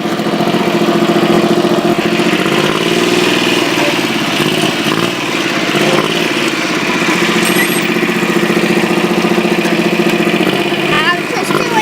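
Tractor engine running close by with a steady mid-low idle drone and slight throttle changes, continuous throughout, with faint squeaky tones near the end.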